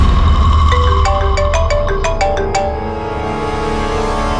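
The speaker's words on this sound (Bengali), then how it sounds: "এসে গেছে সিআইডি লোকেদের ফোন।" A phone rings with an incoming call as a bright electronic ringtone melody of rapid rising and falling notes. It plays loud and close for about two and a half seconds over a low background hum.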